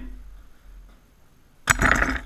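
A glass cup is struck by a BB gun shot: after a quiet stretch, a sudden sharp crack and bright shattering clink rings out close and loud, trailing off briefly.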